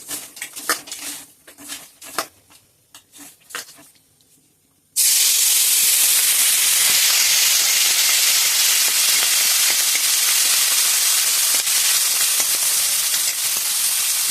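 Puti fish coated in turmeric and salt hit hot oil in a pan, bursting into a loud, continuous hissing sizzle with spattering crackle after a few seconds of quieter clinks and handling.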